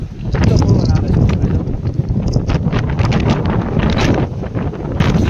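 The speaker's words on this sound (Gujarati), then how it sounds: "પવન કેટલો આવે પતરા પણ હલબડે પતરા કેટલો પવન આવે છે" Strong wind gusts roar steadily across a hilltop temple at Kadamgiri, buffeting the microphone and rattling loose metal roof sheets, loud and continuous throughout.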